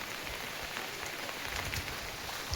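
Steady, moderately heavy rain patters continuously on village surfaces during a flood-season downpour, an even hiss with occasional louder drops and no voices.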